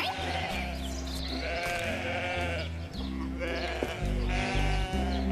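Cartoon sheep bleat repeatedly in a field, several overlapping calls in a loose rhythm, close and clear with no talk.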